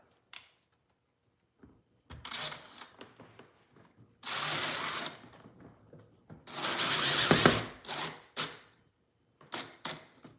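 A power driver runs screws through a board into a kayak hull in several short, close bursts of whirring with quiet gaps between them. The longest run builds to a louder grinding whine as the screw seats.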